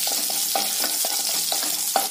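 Mustard seeds, cumin, urad dal and broken dried chilli fry in hot oil, a close, steady sizzle with rhythmic stirring strokes repeating about every half second, no talk.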